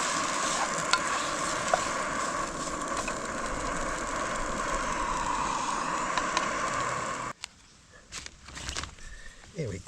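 Food cooking in a pan at a wild campsite in Lawrence Field, a steady close sizzle and crackle that cuts off abruptly near the end, followed by a few clattering knocks.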